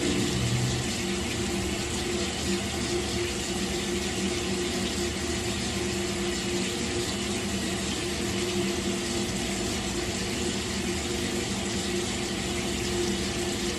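Steady running water from a tap splashes continuously into a sink at close range while a face is washed, an even, unbroken rush with no talk.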